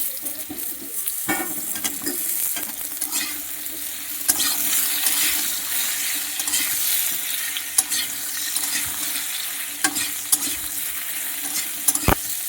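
Green banana pieces and potatoes frying in hot oil in a pan for a hilsa fish curry, a steady close sizzle with occasional scraping stirs and clinks throughout.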